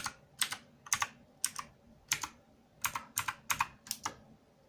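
A password is typed on a computer keyboard, with close, crisp key clicks in short irregular bursts separated by brief pauses and no voices.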